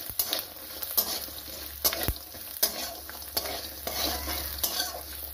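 Tadka of dried red chilli and garlic frying in hot oil in a pan while being stirred, steady sizzling with rhythmic scraping strokes and occasional clinks of the spoon against the pan.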